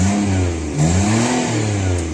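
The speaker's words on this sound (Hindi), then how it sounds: "सागर भाई रेव करो एक बार" A Maruti Alto 800 with a modified valvetronic exhaust revs up and settles in a few quick, rising and falling throttle blips, a loud, close engine drone with no talk.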